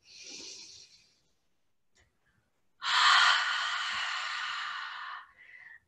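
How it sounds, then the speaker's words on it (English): A yoga instructor breathes out loudly through an open mouth in a long, breathy fogging exhale lasting over two seconds, preceded by a shorter airy breath and followed by a soft tail, close and alone. "as we exhale, breathing out nice and loud, like you're fogging up a mirror"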